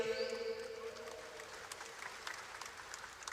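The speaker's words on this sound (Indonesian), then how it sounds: "saya tepuk tangan yang keras dong" Faint applause for a deputy minister at a cooperative development dialogue, with a voice at the opening before a steady patter of clapping from the audience fills the rest.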